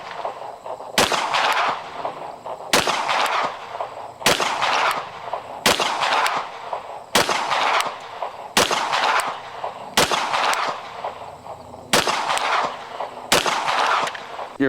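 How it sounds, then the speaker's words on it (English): Ten pistol shots from a Shadow Systems handgun ring out one at a time at a steady pace, each loud sharp crack followed by a short decay, with no talking over them. "For copium's sake, 10 more rounds out of the Shadow Systems."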